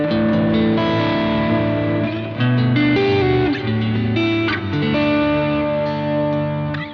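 An electric guitar plays chords and sustained notes through a Boss GT-1000 Core stereo amp-modeler preset, a boutique amp on one side and a Deluxe Reverb combo on the other, with chorus and reverb, loud and continuous without speech.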